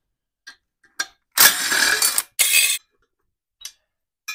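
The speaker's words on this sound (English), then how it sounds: "Need to get some of these with the wrench." A wrench ratcheting on header bolts of a Mustang V8 engine during teardown: a few isolated metallic clicks, then two sustained bursts of rapid ratchet clatter, close and loud, followed by faint clinks.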